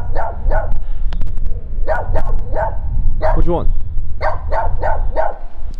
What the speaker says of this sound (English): the dogs everywhere